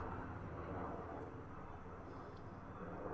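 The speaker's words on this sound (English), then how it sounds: "Airplane is louder with the window open." An airplane passes overhead, heard through an open window as a faint, steady broadband roar held evenly throughout, with no speech.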